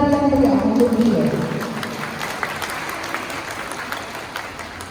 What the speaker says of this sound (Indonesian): Beri tepuk tangan yang meriah untuk beliau.